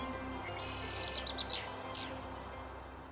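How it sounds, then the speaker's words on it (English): Faint bird chirps come in short bursts over a steady outdoor background hum in Colorado open space, several quick calls clustered together, then one more after a pause. "We can hear the birds while we're here."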